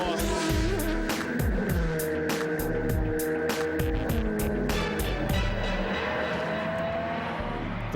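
Audi Sport UK Team Veloqx Audi R8 endurance race cars at Sebring roaring loudly through a very fast turn, engines pitching down as several cars pass in quick succession, with a dense continuous wash of noise.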